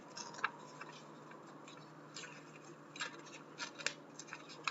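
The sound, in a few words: tearing paper along lines for origami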